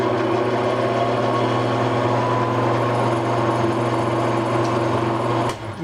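Repaired woodworking jointer motor running steadily, a loud continuous high-pitched hum with a faint whine, close by, dropping slightly at the very end.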